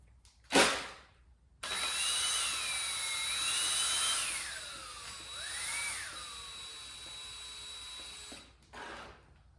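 A drill spins an oiled ball hone inside an engine cylinder of an F24 motor, making a high whirring whine that rises and falls in pitch as the speed changes. A brief knock comes before it starts, with short bursts near the end.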